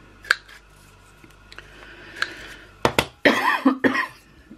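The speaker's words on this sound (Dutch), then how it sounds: "Dus ik ben heel erg aan het hoesten weer." A person with hay fever coughs several times, first in a few isolated bursts, then in a closer cluster of harsh, loud coughs and throat sounds toward the end.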